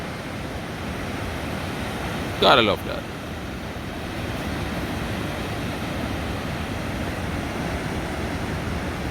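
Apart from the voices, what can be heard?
ocean waves crashing on stones and shore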